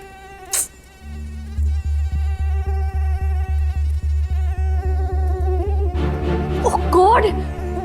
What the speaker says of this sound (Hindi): इतने मच्छर कैसे है इस कमरे में?